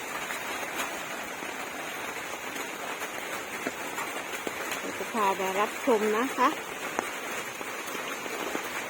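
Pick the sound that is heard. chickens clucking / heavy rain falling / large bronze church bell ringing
heavy rain falling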